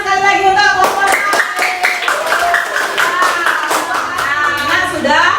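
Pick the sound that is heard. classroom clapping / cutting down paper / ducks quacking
classroom clapping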